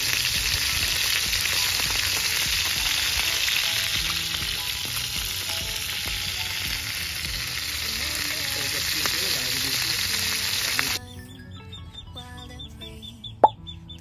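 Loud continuous sizzling of food frying in a hot pan, ending abruptly to quieter background with a sharp clink near the end.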